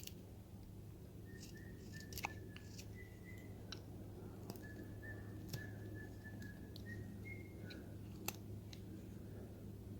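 A child whistles a soft, wavering tune in the background, faint and intermittent over steady room hum, with occasional sharp clicks from woodcarving work nearby.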